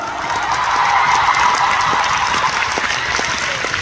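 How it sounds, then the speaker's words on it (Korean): A concert audience at a tour show in Seoul applauds loudly and steadily, a dense wash of clapping filling the hall without break. "박수 한번 주세요."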